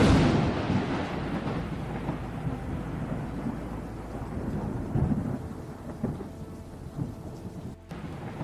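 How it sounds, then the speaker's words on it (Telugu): Thunder rumbles loudly and steadily beneath heavy rain falling outdoors, a dense, continuous roar with swelling peaks and no voices. "మళ్ళీ వర్షం వస్తుంది, పద వెళ్ళిపోదాం."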